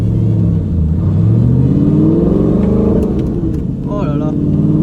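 Audi R8 Spider with a gated manual gearbox rumbles and revs while driving, a loud, continuous engine note rising and falling in pitch, heard from inside the car with someone talking over it.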